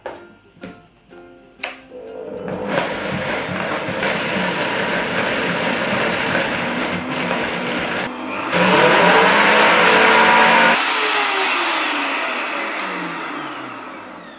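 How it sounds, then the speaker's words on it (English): Countertop blender whirring loudly as it mixes thawed frozen blueberries, pushed down with a tamper; a few short pulses lead into a long steady roar that surges midway, then winds down near the end. "Put the lid on, using the tamper, mix well"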